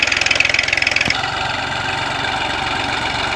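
Massey Ferguson 1035 DI tractor diesel engine running in second gear in a field, a close, loud, rhythmic knocking chug that evens out into a steady drone.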